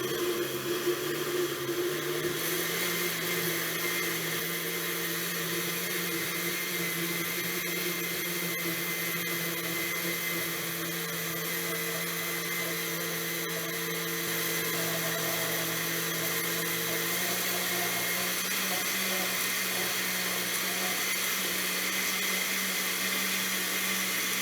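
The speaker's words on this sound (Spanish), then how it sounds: "licuando" An electric blender whirs continuously, blending a creamy two-ingredient gelatin dessert mixture. The steady, loud motor drone shifts slightly in pitch partway through, with no talking.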